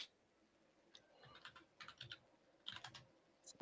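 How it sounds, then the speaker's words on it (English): Quiet computer keyboard typing comes in short irregular bursts of clicky keystrokes, soft and close, with near silence between the bursts. "because I hear you typing something"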